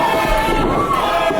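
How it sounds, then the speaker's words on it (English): A pro wrestling crowd at a BOOM! Pro Wrestling show roars and cheers, a steady wash of many voices filling the arena. "But the Boomiverse trying to get him back into it, cheering him on"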